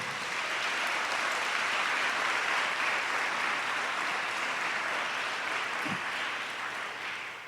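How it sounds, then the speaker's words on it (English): A large audience applauds a sponsoring committee at a formal program on Black American history, a steady wash of clapping that holds evenly at a fair distance for the whole stretch with no voices. "I would like very much for you to give them a round of applause."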